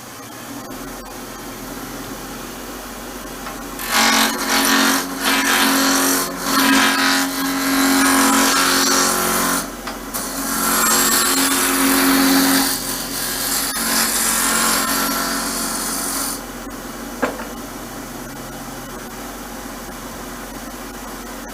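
Wood spinning on a lathe while turning a yarn caddy: loud rough scraping and tearing bursts from the tool biting the piece, over a steady motor hum, starting and stopping in uneven stretches.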